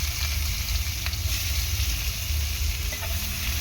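Onions hit hot oil along with cardamom, cinnamon and a dried red chilli, giving a loud, unbroken close sizzle with a few light stirring clicks and no talk.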